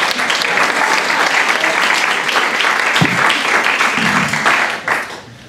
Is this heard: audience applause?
yes